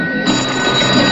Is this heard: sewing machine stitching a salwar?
no